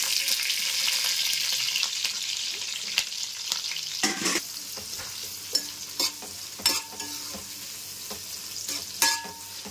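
Sliced onions and green chillies fry with whole spices in a pan for a mutton dish, giving a steady close sizzle with a few stirring clatters and spoon knocks, and no talking.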